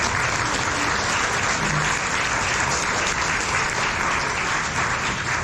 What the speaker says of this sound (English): Can we give all the candidates a round of applause?